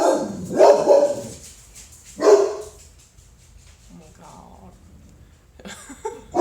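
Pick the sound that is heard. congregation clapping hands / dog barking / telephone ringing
dog barking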